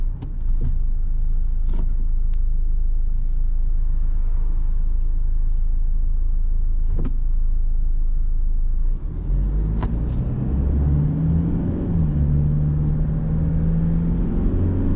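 A car in normal drive eco mode accelerates gently and cruises, heard from inside as a steady loud low rumble with engine tone rising and shifting partway through.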